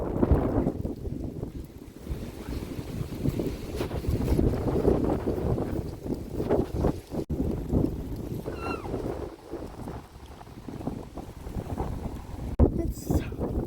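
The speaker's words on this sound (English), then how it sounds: "It is so windy" Strong gusts of wind buffet the microphone on an outdoor walk with dogs under a stormy sky, producing loud, uneven rumbling bursts that rise and fall, while a person talks intermittently.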